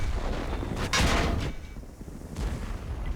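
Tank cannon fire in World of Tanks, tier 10 clan battle: one sharp, heavy blast about a second in, followed by a rolling boom, then a second softer report near the end, moderately loud with no speech.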